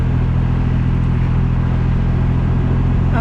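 A Triumph Rocket 3R Storm motorcycle engine runs at a steady, loud, throaty idle or low rev, held close and constant throughout with no pauses.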